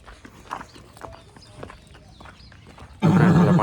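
A foal being led in alongside a tethered mare gives faint hoof clops and soft stirrings, then bursts into a loud, close, wavering neigh that fills the final half-second.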